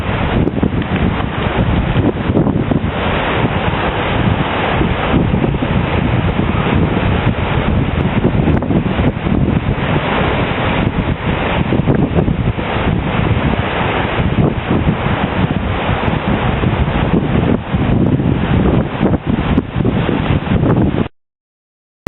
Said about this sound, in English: The water's so blue and the sea's so violent here.